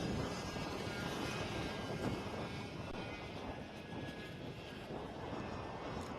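Micro and Mini class racing karts on track at ROK Sonoma, their small roughly 10-horsepower engines revving toward 11,000 RPM, making a continuous buzzing engine drone at steady, fairly distant level with no talk.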